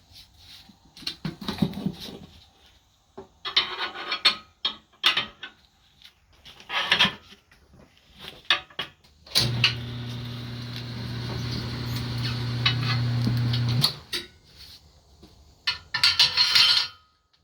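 A Mayflower 960 tire machine demounting a tire from a wheel gives a sustained motor hum with a steady grinding drone for about four seconds, surrounded by scattered clanks, knocks and handling clatter.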